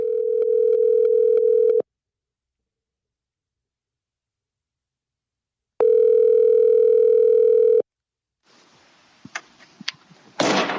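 A telephone tone sounds while a call is placed, as two long, loud, steady tones separated by a few seconds of silence. After them come soft line noise and a few sharp clicks.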